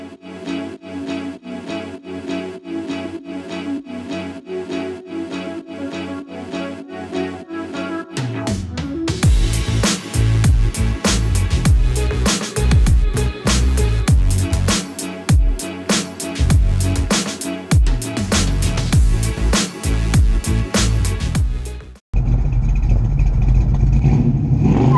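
A 2017 Dodge Challenger engine drones steadily while driving, then swells into a loud, rough roar with clattering bursts before cutting off abruptly and resuming. No one speaks.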